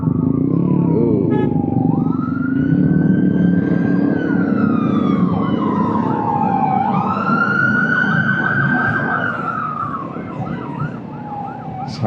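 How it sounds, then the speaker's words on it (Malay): A police siren wailing on a road while a Kawasaki Z650RS motorcycle rides nearby, a loud rising and falling tone sweeping up and down for a long stretch over steady engine and traffic rumble. "siren dia bunyi, tapi bukan siren banjir, siren dari polis."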